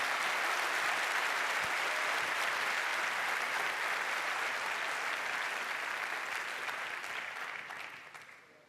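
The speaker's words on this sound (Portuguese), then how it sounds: "Dê o seu melhor aplauso ao nome de Jesus nesse lugar." Church congregation applauds during an evening worship service, with a sustained dense wash of clapping from a large crowd that holds steady and then fades away toward the end.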